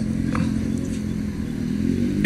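A loud motorcycle with an altered silencer idles and rumbles nearby in traffic during a rally, with a steady low engine drone and faint clatter.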